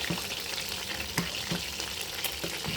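Chicken for tinolang manok stirred in a frying pan, a steady close sizzle punctuated by several soft scraping knocks of the utensil against the pan.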